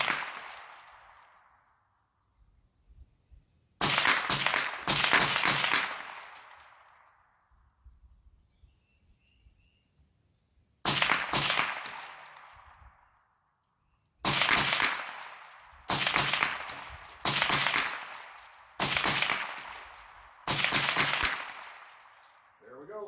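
A .22 rifle fires a string of sharp, close shots to empty its magazine, about eight reports with ringing decay, spaced a few seconds apart at first and then closer together, with faint quiet talk between them outdoors.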